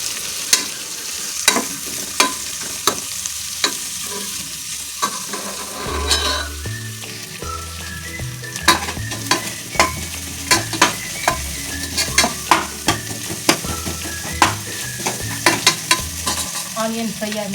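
Onions frying in oil for palak pulao, a steady close sizzle punctuated by regular sharp clacks of a spatula stirring against the pan, roughly once a second.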